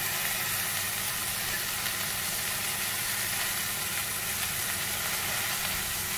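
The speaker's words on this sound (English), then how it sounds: "I'm going to keep the gas slightly on slow and let these vegetables cook for about 2 to 3 minutes" Vegetables cook in a pan over a low gas flame, giving a steady, even sizzle and hiss that runs unbroken throughout at moderate level, with no talking.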